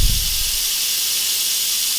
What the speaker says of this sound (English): It looks like just steam.